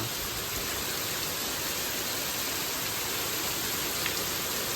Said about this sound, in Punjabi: ਦੇਖ ਲਓ ਕਿਸ ਤਰ੍ਹਾਂ ਚੱਲ ਰਹੀ ਹਵਾ ਦੇਖੋ ਹਵਾ ਖਤਰਨਾਕ ਆ